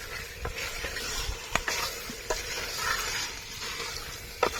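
Chicken curry being stirred in a pot of oil over an outdoor fire: a constant sizzle of frying, broken by sharp scrapes and knocks of the spoon against the pot at irregular intervals.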